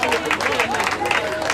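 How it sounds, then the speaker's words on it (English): A school children's day celebration audience claps in a brief, dense burst of applause lasting under two seconds, with crowd murmur mixed in. "Applause for her."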